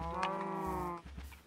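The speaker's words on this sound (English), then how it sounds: "Deepened kind of like moo from a cow." Deep, drawn-out cow moo in Minecraft, one sustained harmonic lowing call lasting about a second, followed by a short low grunt, heard alone and close.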